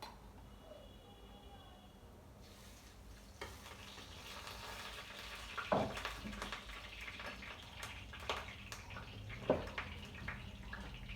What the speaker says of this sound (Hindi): घी डाल के अब इसको भून लूँगी।